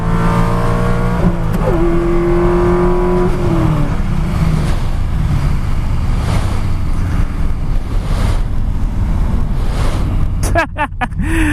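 A C5 Corvette launches hard with violent wheel hop, its engine roaring loudly from inside the car under heavy wind buffeting and road rumble, ending in a quick series of sharp clunks.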